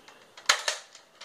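In a target shooting game, a quiet, sharp gunshot crack pops out, followed by a second smaller snap and a few faint clicks.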